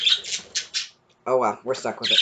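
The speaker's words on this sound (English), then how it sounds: "Real quick, I'm going to apologize for the birds." Shrill, close bird squawks burst out several times, with someone speaking briefly between them.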